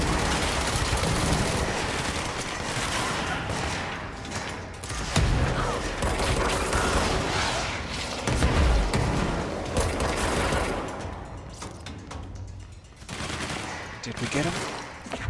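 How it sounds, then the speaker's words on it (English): Sniper rifle and other gunfire in the action video game Control, dense and loud shots and mechanical clatter running continuously, with a player talking over the action. "Don't you shoot me with that sniper rifle."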